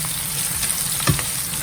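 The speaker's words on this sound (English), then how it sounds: "I'll let those fry up a little bit before I add in my peppers." Onions frying in a pan with Maggi seasoning give a constant, dense sizzle with faint crackles and one small clink, close and steady, with no voices.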